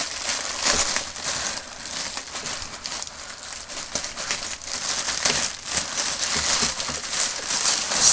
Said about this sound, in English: So next bag, I'm going to have to cut this one open.